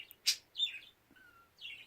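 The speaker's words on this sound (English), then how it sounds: "And my bird just wants to say hello. He's being very loud." A pet bird in a home chirps in short, sharp, high calls, three or four distinct bursts with pauses between, fairly close and loud.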